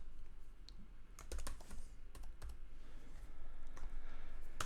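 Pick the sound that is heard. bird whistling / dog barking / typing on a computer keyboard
typing on a computer keyboard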